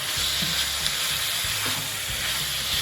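Prawns sizzling in a hot frying pan while being tossed, with a constant close hiss of frying and a few soft scraping and stirring knocks over it.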